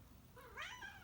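A house cat gives a single rising, drawn-out meow close by, heard alone over a quiet room.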